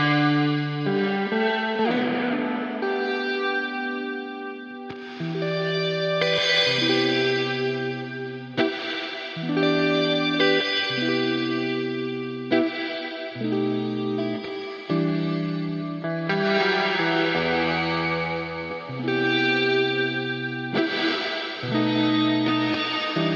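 Synth tones run through an Erica Synths and 112dB Nightverb reverb with stereo width turned up, a melodic sequence of sustained notes with lush, washy tails, steady and moderately loud, no voices.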